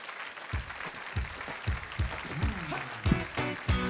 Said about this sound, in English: How about a big electrified round of applause for our panel?